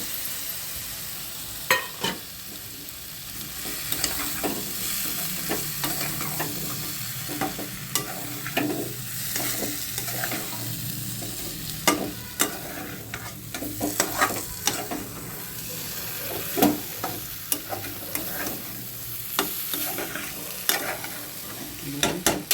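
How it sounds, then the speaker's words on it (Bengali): Pointed gourd (potol) fries in a pan, giving a steady sizzle broken by repeated scraping stir strokes and sharp clicks of the spoon against the pan. "এবার এই যে পটলগুলো ফেলে দিচ্ছি এর মধ্যে।"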